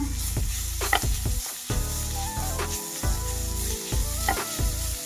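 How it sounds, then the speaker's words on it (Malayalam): Crushed ginger and garlic sizzle and fry in hot oil while a spoon scrapes and stirs the pan in repeated strokes, loud and close, with no talking. "ഇനി നമുക്കതിലേക്ക് കുറച്ച് ഇഞ്ചിയും വെളുത്തുള്ളിയും ചതച്ചത് ആഡ് ചെയ്ത് കൊടുക്കാം മിക്സ് ചെയ്യാം"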